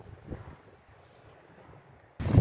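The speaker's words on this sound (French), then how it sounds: "Il y a du vent aujourd'hui." Outdoor wind buffeting a microphone on a breezy day: a low, soft rumble that rises and falls throughout, ending in a sudden louder gust.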